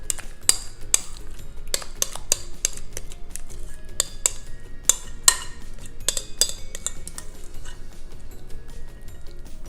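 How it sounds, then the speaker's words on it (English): Creamy bacon dip being transferred into a big baking dish: a spoon scrapes and clinks repeatedly against the dish in quick, uneven metallic taps, close and fairly loud, with no talking. "I've got a nice big baking dish here that we're gonna transfer that into."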